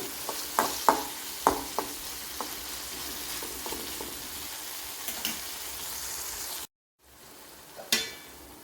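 Ginger garlic paste frying for a Kerala-style fish curry, a steady sizzle broken by several sharp spoon clicks and scrapes as it is stirred, then a brief gap before one more stir.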